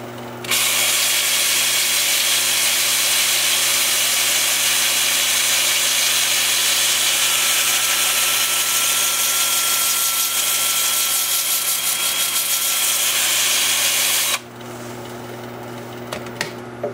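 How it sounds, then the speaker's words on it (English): A wood lathe spins a bowl blank forward at 350 RPM while a 2-inch sanding disc works the bowl, giving a loud, steady whirring and hissing drone that starts abruptly and stops just as suddenly near the end. "I'll have the lathe spinning forward at 350 RPM"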